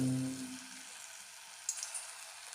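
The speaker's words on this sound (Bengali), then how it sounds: "এদিকে দেখো তেলটাও কিন্তু গরম হয়ে গেছে এবারে একে একে দেখো ছেড়ে দেব এরকম ছোট্ট ছোট্ট করে" Palm fruit fritters (taler bora) being dropped into hot oil, with a soft, steady sizzle after a brief low tone at the start and a few faint clicks near the end.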